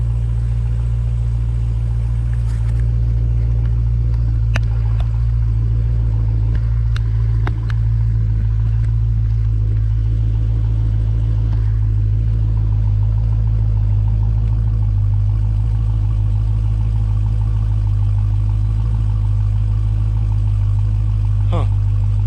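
A car's exhaust with its active exhaust valve open gives a deep, steady idle rumble that holds throughout, with a few faint clicks over the drone.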